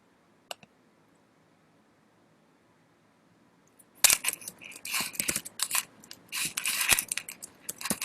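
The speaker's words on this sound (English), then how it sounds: "I'm just typing a message to my guest." Rapid keyboard typing clatters up close after near silence, the keys tapped in quick irregular bursts, with no voices.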